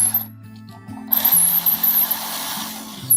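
A screwdriver drives screws to force an electrical outlet receptacle into its box, with close, faint mechanical grinding and a rising whine, separated by brief pauses.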